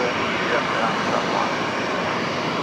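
Air New Zealand airliner moving at Brisbane Airport at night: a steady, broad jet engine roar, fairly loud and continuous, with a voice talking over it.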